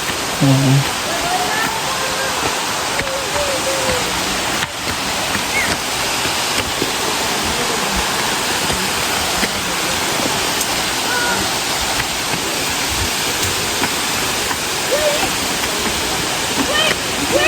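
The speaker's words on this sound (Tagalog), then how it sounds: "Welcome sa Kanumantad Falls." Can-umantad Falls in Bohol roars as a steady, loud waterfall, its dense broadband rush of water continuous throughout, with faint voices briefly audible beneath the torrent.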